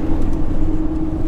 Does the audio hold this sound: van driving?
yes